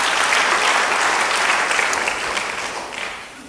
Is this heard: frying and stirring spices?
no